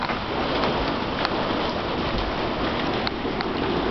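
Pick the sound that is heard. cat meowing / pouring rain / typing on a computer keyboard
pouring rain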